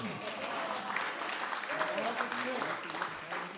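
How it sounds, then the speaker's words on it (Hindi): Applause rises from a theatre audience at a kavi sammelan in Shimla as the crowd cheers a poet on stage. The clapping holds at a moderate, even level while a voice speaks over it. "मेरे स्वागत में दोबारा जोरदार तालियां बजाएं"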